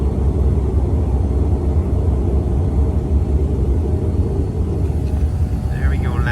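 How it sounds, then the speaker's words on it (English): A Lufthansa airliner landing at Munich airport, heard as a loud, steady low engine roar and rumble that fills the whole stretch without a break. "And look, the airplane landing,"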